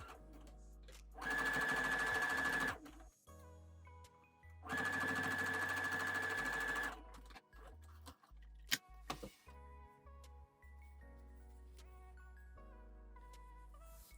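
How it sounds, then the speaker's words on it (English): A sewing machine stitches a flat felled seam from the wrong side of the pressed, pinned fabric, running in two steady bursts of about two seconds each with a short pause between, followed by a few light clicks and handling noises. "now I'm going to sew this from the wrong side"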